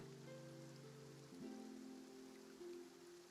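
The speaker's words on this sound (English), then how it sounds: "It's raining." Steady rain patters over the scene in Genshin Impact, with soft tonal game music lines drifting above the constant wash of falling drops.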